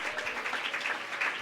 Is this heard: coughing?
no